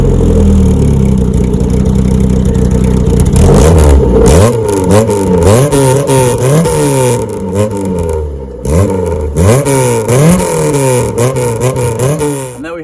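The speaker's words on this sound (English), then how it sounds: "the exhaust, albeit the center section has been cut out, so it sounds amazing" A 1984 Volkswagen Polo Mk2 with the center section of its exhaust cut out idles loudly, then revs repeatedly in sharp rising and falling bursts, close and raw.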